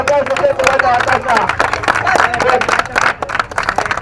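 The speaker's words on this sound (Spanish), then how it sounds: "Un fuerte aplauso por esta batalla." Applause and clapping from a crowd after a rap battle, loud and close, with some shouts and chatter mixed in.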